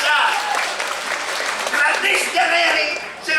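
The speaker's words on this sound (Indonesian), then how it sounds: "Tepuk tangan dong Riki dong" An audience at a Bali arts festival performance claps in a dense burst, with voices calling out over the applause throughout.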